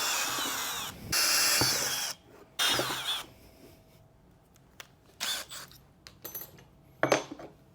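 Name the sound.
power drill drilling a hole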